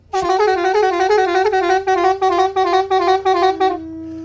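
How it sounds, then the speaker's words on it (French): A car horn blares in one long continuous blast that then turns into a quick series of short, evenly spaced honks, loud and close with no talk over it. "Alors, on va faire retentir d'abord le klaxon."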